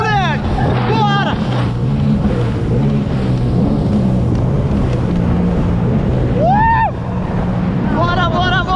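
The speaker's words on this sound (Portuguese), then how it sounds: "Rapaziada, tô aqui com o jet." Jet ski engine roaring steadily while riding over waves at sea, loud and close with wind buffeting the microphone, as voices shout over the motor.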